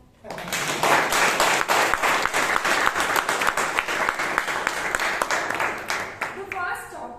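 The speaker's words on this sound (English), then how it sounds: "A huge round of applause for the audience and myself." An audience at a Toastmasters club meeting in Bangalore breaks into brisk applause, many hands clapping close and loud for several seconds before it thins out, with a voice speaking briefly at the end.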